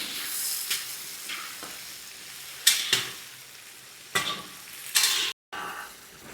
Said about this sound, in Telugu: ఇప్పుడు మీరు చూసుకోవచ్చు టమాటా అయితే మగ్గిందండి చాలా వరకు.